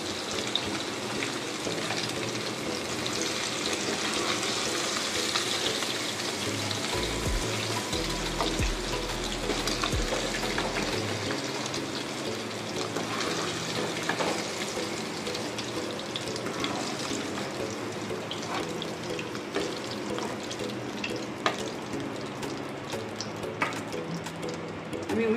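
Whole spices hit the hot oil left from frying paneer and sizzle in a steady, close crackle that holds evenly throughout without talk.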